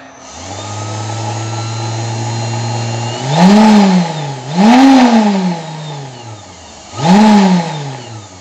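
A homemade CNC machine's spindle motor whines steadily, then is switched off and back on three times, each restart rising and falling in pitch as it spins up and winds down, loud and close.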